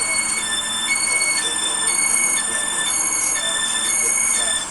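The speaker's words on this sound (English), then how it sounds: "The train now approaching platform 2 terminates here." A train in the Stepford County Railway video game pulls into a platform with a steady, close electric whine and hum. High tonal pitches hold and shift slightly all the way through.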